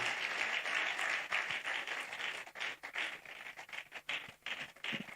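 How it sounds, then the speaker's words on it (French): A church congregation applauds a man and woman during a Sunday sermon, a burst of many hands clapping loudly at first, then thinning into uneven, fading rounds. "Acclamez très fort le monsieur et puis la dame là qui sont venues"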